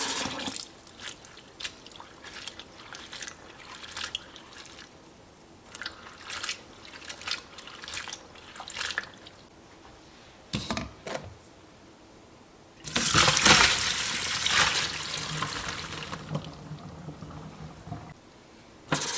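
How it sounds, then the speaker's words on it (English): Cabbage rinsed under running water in a kitchen, with intermittent splashing and trickling that swells into a loud, steady gush near the end, close up and without talking. "Then I give it another good rinse and shake."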